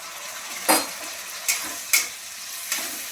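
A marinated paste of cumin powder, ginger powder and garlic paste sizzles in a pan, with a steady low frying hiss broken by four sharp scraping stirs of a utensil.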